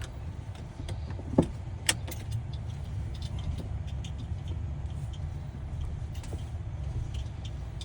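A Tesla Cybertruck drives along at low speed, giving a steady muffled road and cabin rumble with a couple of faint clicks near the start and no engine roar.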